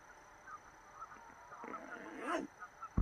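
A flock of geese honking outdoors in a rural field, several nasal calls overlapping at a moderate distance, with one louder honk near the end and a faint steady hum underneath.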